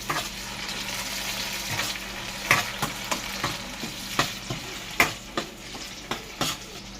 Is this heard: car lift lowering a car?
no